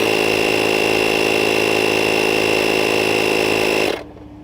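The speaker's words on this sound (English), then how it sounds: "That turns on the air compressor" A portable air compressor inflating a tire runs with a loud, steady mechanical drone for about four seconds, then cuts off abruptly, leaving a faint low hum.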